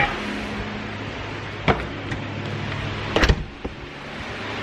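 A door is pulled shut, giving a sharp click and later a quick cluster of thumps and latch rattles over a low steady background hum.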